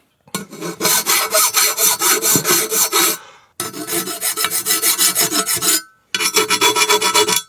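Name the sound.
round Nicholson file smoothing a cast base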